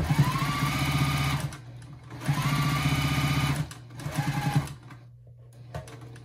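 A sewing machine back stitches a fabric bowl cozy in three quick, rattling bursts of needle strokes, separated by short pauses, before falling quiet.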